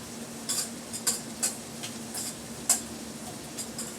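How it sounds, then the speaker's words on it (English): A spoon stirs food seasoned with salt and pepper in a pan, giving several light scattered clinks and scrapes over a low steady hum. "And then we'll just give that a stir."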